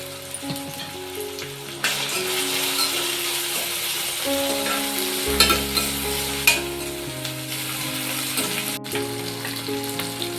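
Asafoetida dropped into hot oil in a pan sizzles loudly and continuously, with bursts of stirring and a few clinks of a utensil, music running underneath.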